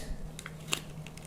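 Scissors snip open a small test packet for reef aquarium water testing, a few quiet, crisp cuts and crinkles in a short, faint burst.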